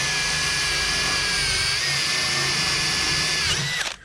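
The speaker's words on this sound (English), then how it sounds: "I like to turn the drill the other direction" Power drill stripping paint from an aluminum boat hull, a loud steady whine held for nearly four seconds before spinning down and cutting off at the end.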